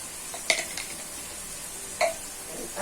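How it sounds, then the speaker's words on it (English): A steady, soft sizzle and hiss from a stew cooking in a pan, broken by a couple of faint clinks of a utensil against the pan, close up with no talking. "then some water. I'll add some water."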